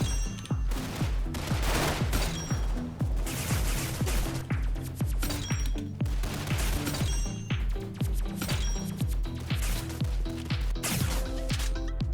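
Rapid gunfire in a video game, rhythmic bursts of shots with clinking shell sounds and a steady backing of game music, loud and continuous with no talking.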